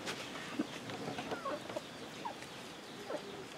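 Farm chickens cluck in scattered short calls at a moderate distance, spread over a steady outdoor rural background.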